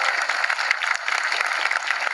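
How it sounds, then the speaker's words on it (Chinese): Warm applause from a studio audience at a live rally against a fake doctorate, steady clapping filling the room throughout without a break. "把你们的手拿出来，我们热情掌声鼓励一下好不好"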